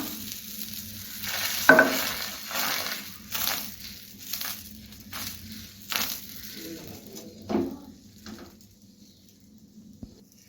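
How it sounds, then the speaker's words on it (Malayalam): Egg dosa batter spread onto a hot pan, with soft sizzling broken by scraping and spreading strokes and a sharp clink early on, fading to quieter hiss toward the end; no talking. "പാൻ ചൂടായിട്ടുണ്ട് ഈ മുട്ട ദോശയുടെ മാവ് ഒഴിച്ചു കൊടുക്കാം"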